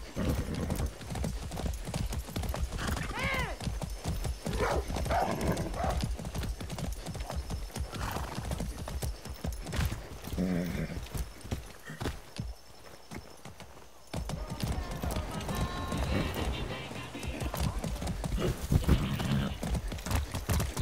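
Rhythmic horse hooves clip-clop steadily in the video game Far Cry 6, with a horse whinnying now and then and a brief pause partway through.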